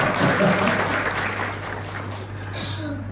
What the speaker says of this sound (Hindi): उस मां के लिए एक बार ताली बनती है